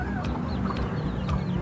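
Rhode Island Red hen clucking in a backyard poultry pen, a few short throaty clucks repeating close by over steady farmyard background noise.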